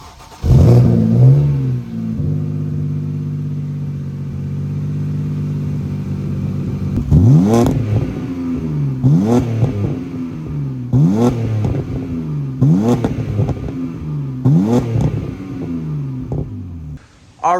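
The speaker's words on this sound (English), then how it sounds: "but first an exhaust clip." A car's exhaust roars through a long rev, then barks out a series of sharp, evenly spaced throttle blips, each rising and falling, loud and close with no talking.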